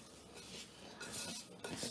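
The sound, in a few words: mixing clam meat with chili powder, turmeric and salt by hand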